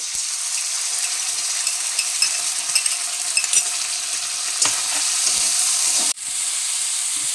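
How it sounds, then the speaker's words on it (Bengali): Cardamom and cinnamon paste cooking with green chilli, turmeric and coriander powder in oil for a fish curry, giving a steady hissing sizzle with a few stirring clinks and a brief dip near the end. "এলাইচি, দারচিনি বাটা এখানে একসাথে কষিয়ে নেব"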